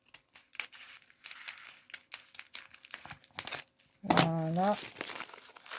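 Plastic packaging from an online haul is cut open with scissors, with crinkling and tearing bursts around speech, followed by a loud close crackle of handled plastic near the end.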